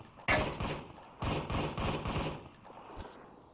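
Bursts of rapid gunfire in the VR shooter Onward crack out in three or four clustered volleys, fairly close and punchy, with quieter shots trailing off at the end and no talk.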